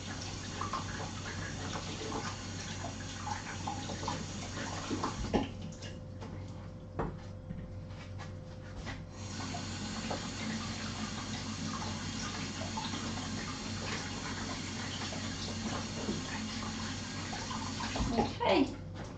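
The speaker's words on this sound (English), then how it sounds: "that's all my fennel washed" Tap water runs steadily into a sink while fennel is washed, a continuous close splashing stream that briefly thins midway, with light drips and clatter near the end.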